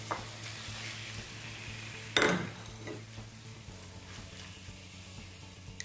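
Sliced escalope meat sizzles and fries in a pan with a steady crackle, a single sharp scrape of stirring standing out early, close and continuous with no talk.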